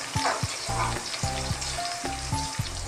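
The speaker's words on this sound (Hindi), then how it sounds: "जब तक हमारी प्याज ब्राउन हो रही है" Onions frying in a pan until browned for paya, a steady close sizzle with several clanks and scrapes of a spoon stirring through the pan.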